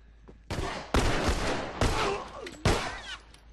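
Bursts of gunfire in The Last of Us, three or four loud sharp volleys in close succession with echoing tails, no voices.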